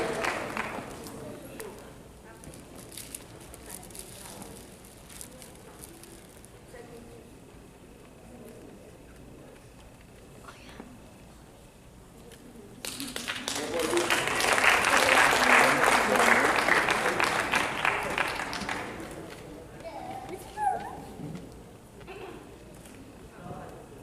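A church congregation bursts into loud, sustained applause lasting several seconds, rising from quieter talk in the hall, with a voice speaking before the clapping begins.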